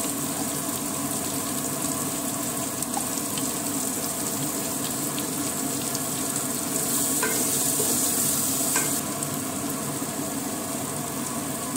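Ground masala paste and two spoonfuls of ghee fry in oil for chicken biryani, making a steady, fairly loud sizzle with intermittent stirring, and no one talking.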